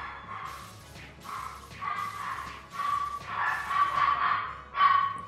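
Dogs in the video game Tactics Ogre, a series of six or so short, mid-loud barking bursts in an uneven rhythm over a low background hum.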